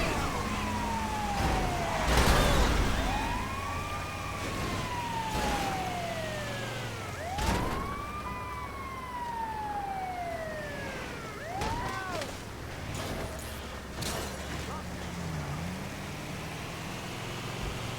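Wailing ambulance siren in a video game, rising and falling sweeps repeating across the clip over steady engine and traffic noise, fairly loud and close, with a few sharp thumps.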